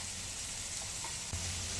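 Onions sizzling steadily in a pan while they brown for paneer butter masala, a loud, even close-up hiss with no pauses and no voices.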